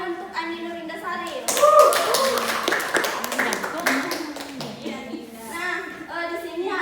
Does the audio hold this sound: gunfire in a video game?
no